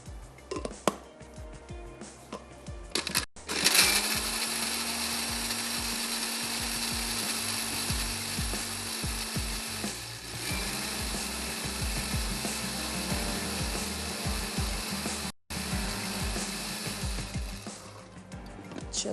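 A kitchen mixer grinder blends chopped onion with a little water, its motor starting with a clatter and then whirring steadily and loudly for several seconds before cutting out and restarting.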